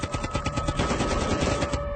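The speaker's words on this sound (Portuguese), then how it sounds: "Os tiros começaram sem aviso." Rapid bursts of automatic gunfire rattle continuously for about two seconds, loud and dense, sounding close.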